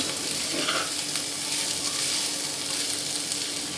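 Kharkol leaves being fried and stirred with chillies and onion in a pan, giving a constant close crackling sizzle with light stirring underneath.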